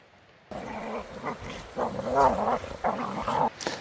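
Several dogs play roughly outdoors at a mountain camp, growling, grumbling and giving small yips in a rising and falling tussle, close by and fairly loud.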